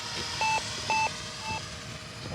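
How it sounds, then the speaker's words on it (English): An RC transmitter's flight timer chimes three evenly spaced short electronic beeps at an outdoor model-airplane flying field, each crisp tone standing clearly above steady wind and field background noise. "That was my old timer I never reset from between flights."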